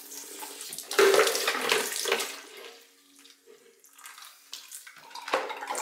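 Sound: water draining out of a copper pipe

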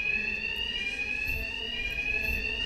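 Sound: alarms ringing in video game Batman Arkham Knight

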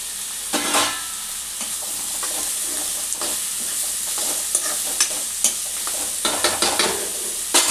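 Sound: ridge gourd frying and being stirred in a pan

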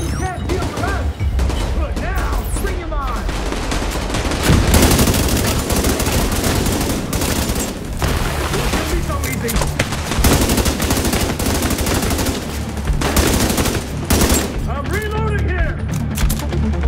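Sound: gunfire in video game The Division 2

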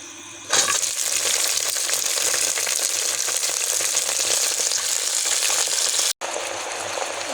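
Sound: vegetables added to hot oil with chilli and garlic, frying

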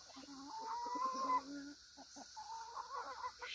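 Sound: chickens clucking

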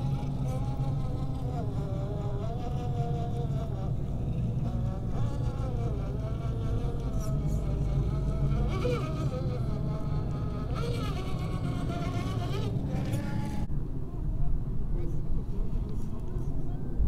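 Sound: Hobbywing Quicrun brushless RC crawler motor running

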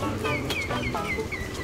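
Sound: chicken clucking

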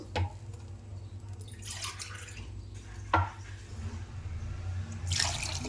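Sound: water being poured into a pot from a glass

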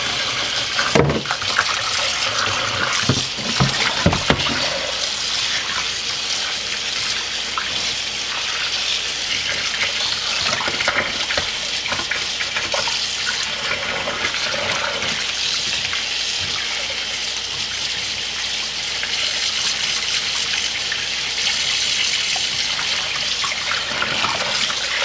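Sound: washing pork stomach under running tap water

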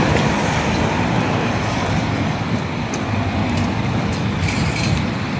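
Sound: tram passing

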